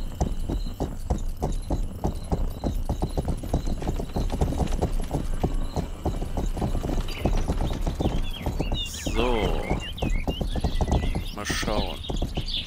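Steady hoof clip-clop of a horse being ridden in the video game Rustler, a quick even rhythm running throughout, close and fairly loud, with a brief whinny-like sound near the end.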